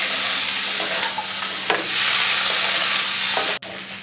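Chickpeas being stirred with soy sauce in a frying pan, giving a steady close sizzle with soft scraping strokes and a few sharper spoon knocks.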